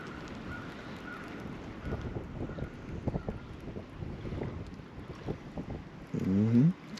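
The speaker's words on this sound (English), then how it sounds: "We can't get away from this wind." Steady wind buffets the microphone while fishing from a boat on open water, a continuous rushing roar with low gusty rumble and a louder blustery burst near the end; no talking.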